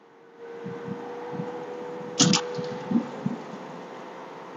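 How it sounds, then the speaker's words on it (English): Steady car road noise with air conditioning running, heard from inside a car merging onto a highway at about 50 mph, a continuous broadband hum with a few soft thumps and one louder bump partway through. "I'm merging onto the highway. I'm only going about 50 miles an hour right now, so the road noise is going to get a little worse."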